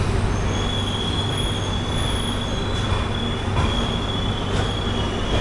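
The 16511 Kannur Express rolls into Mangaluru Central station at platform 1, heard from on board: a steady low rumble, thin high wheel squeal and occasional metallic clicks of the carriages.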